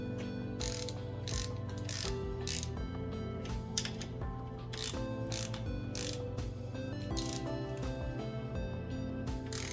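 A torque wrench tightens engine bolts to 33 foot-pounds on an engine rotating assembly, giving a rapid series of sharp, close metallic clicks and ratcheting throughout, with no talk.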